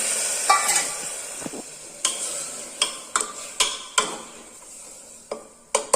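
A turmeric and salt solution is stirred into vegetables in a cooking pan, with a faint sizzle beneath scattered scraping and clinking knocks of a spoon against the pan, close and irregular.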